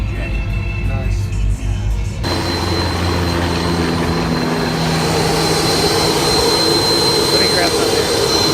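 A Boeing BBJ private jet's engine roars loud and steady, swelling in after a quieter start and holding a broad whine, with voices faintly beneath it.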